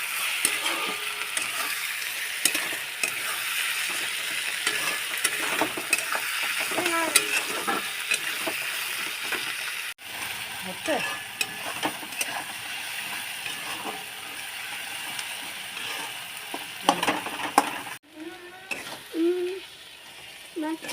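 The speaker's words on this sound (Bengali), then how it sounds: "টমেটোটা অ্যাড করার পর ভালো করে নাড়তে হবে" Onion and tomato fry in a pan for pav bhaji, giving a steady sizzle broken by repeated scraping and clattering strokes of a stirring utensil, close and fairly loud.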